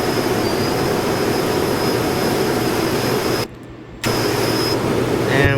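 A Cirrus SF-50 Vision Jet making a flyby in the X-Plane flight simulator: a loud, steady jet engine roar that holds throughout, drops out briefly near the end, then returns, with no voices.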